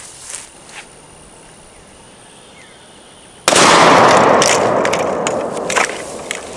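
A small shotgun fires once outdoors, its shot striking a chronograph. After a quiet stretch comes a single sudden, loud blast whose rough noise fades slowly.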